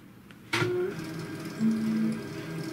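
A Xerox Phaser 3120 laser printer powers on with a sudden click, then a steady mechanical whir and hum that rises again briefly as its internal motor runs, close and fairly quiet.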